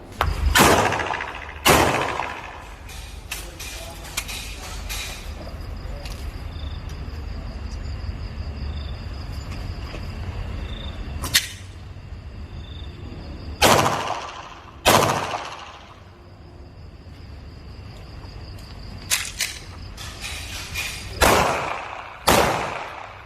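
Pistol shots at a low-light shooting practice, about a dozen sharp, loud cracks fired singly and in quick pairs with pauses between, over a steady background hum and insect chirping.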